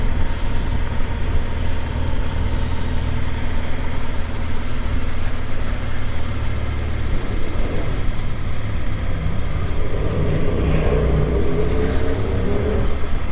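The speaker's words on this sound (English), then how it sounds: "There's a bit of a noisy exhaust." A Honda Transalp motorcycle idles outdoors with a noisy exhaust, a continuous low throbbing rumble that stays steady and fairly loud throughout with no talking.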